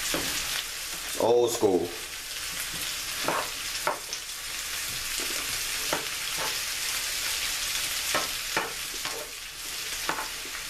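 Home-fried potatoes and onions crackle in a pan with a continuous close sizzle, punctuated by regular spatula scrapes and stirs, while a voice talks briefly early on.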